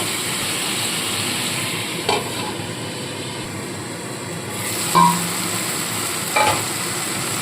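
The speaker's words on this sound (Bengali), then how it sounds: "চাপা দিয়ে পেঁয়াজ আর টমেটো সেদ্ধ করে নেব" Onions and tomatoes cook covered in a pan, a steady soft sizzle and hiss with a few brief clinks or knocks scattered through.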